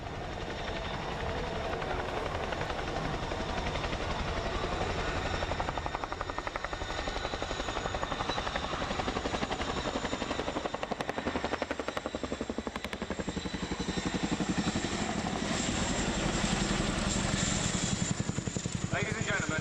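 Chinook helicopter flying a display at the Dunsfold 2014 Wings & Wheels airshow, its loud, continuous rotor and engine roar filling the whole stretch, with a public-address voice faintly over it.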